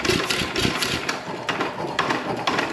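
A worn 1920s Ottawa drag saw engine, loose and spinning over, makes a close, rough, uneven chugging with repeated knocks and rattles roughly every half second.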